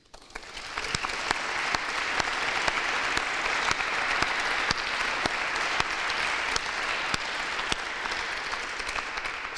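An audience at a lecture event claps to welcome a guest speaker, dense sustained applause with distinct sharp individual claps, steady and fairly loud for the whole stretch.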